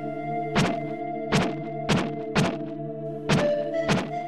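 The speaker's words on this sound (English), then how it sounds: "when you find a breakable wall and stab it, it makes a noise" A sword stabbing a breakable wall in the SNES game Illusion of Gaia, six dull hollow thunks in an uneven rhythm over steady background music and hum.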